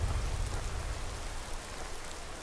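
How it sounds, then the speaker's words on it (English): Rain falls in the Skyrim Special Edition video game, a steady broadband hiss of drops on surfaces, close and even, with no talk over it. "And the rain's stopping."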